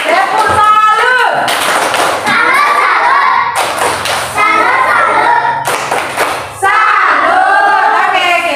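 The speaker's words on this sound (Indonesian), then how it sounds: "tepuk tangan untuk kelompok 1" Students in a classroom applaud a group with loud, close clapping in rhythmic bursts broken by brief pauses. Children's voices mix in with the claps.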